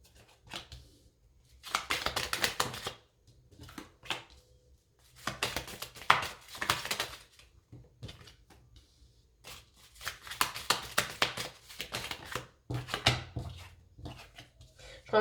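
Tarot cards drawn and laid down from a deck, giving repeated papery snaps and shuffling rustles in short bursts with pauses between them, close and fairly loud, with some voice in the background.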